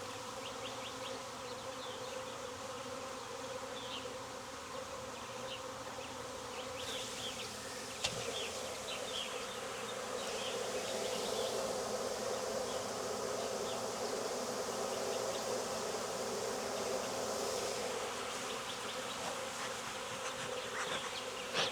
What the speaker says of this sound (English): There's still some bees in here, but not many.